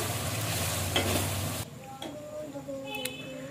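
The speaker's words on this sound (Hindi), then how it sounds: "अब प्याज को भी अच्छे तरीके से ब्राउन कर लेना है" Onions browning in hot oil for a meat curry tadka in a home kitchen, a loud sizzle with scraping stirs that cuts off abruptly, followed by quieter clinks and faint background sounds.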